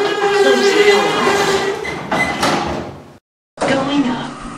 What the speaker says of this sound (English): Please stand clear. Close the door.